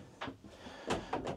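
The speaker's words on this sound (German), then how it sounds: "jetzt können wir die Schubladen öffnen" Kitchen drawers in a Dethleffs Globetrotter XL I 7850-2 motorhome, model year 2021, slide open in a quiet interior with three separate soft runner rumbles and light knocks, close by, with no talking.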